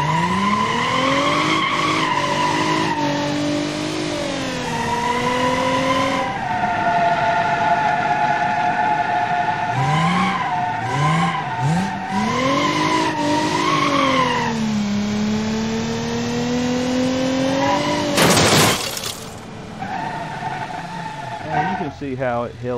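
Car driven into an object in a soft-body driving simulation game, with a revving engine whose pitch rises and falls through gear changes, tire squeals, and a sharp crash burst near the end, loud and continuous throughout.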